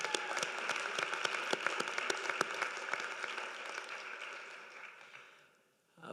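An inauguration audience gives performers another round of applause, sharp individual claps over a steady patter that gradually thins and fades near the end, followed by a brief new sound.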